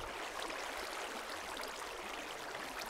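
A Minecraft waterfall gives off a steady, soft rushing hiss of falling water, faint and even throughout, with no other sounds over it.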